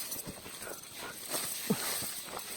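A horse is led on foot up a steep trail, with scattered irregular hoof thuds and footsteps, fairly faint, plus a few small rustles.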